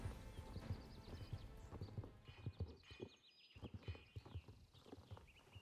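Horse hooves in the Star Stable Online video game, rhythmic clip-clop beats running steadily with short pauses, plus a brief whinny and faint game background sounds, fairly quiet overall.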